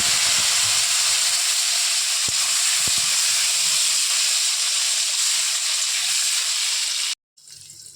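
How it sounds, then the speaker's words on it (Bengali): Salted, turmeric-coated eggplant slices fry in hot oil, giving a loud, steady hiss and sizzle that runs for several seconds before cutting out abruptly, then returning more quietly. "ওই তেলের মধ্যে কেটে রাখা বেগুন নুন হলুদ মাখিয়ে রেখে দিয়েছি"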